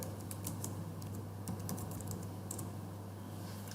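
Fingers type on a computer keyboard in a steady patter of light clicks, faint and close, over a low constant hum.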